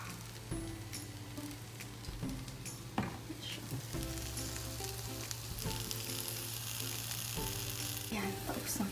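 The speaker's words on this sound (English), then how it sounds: "wait for the egg to be cooked." An egg frying in a pan gives off a steady, close sizzle that runs throughout, with a few clinks and light handling noises on top and no clear speech.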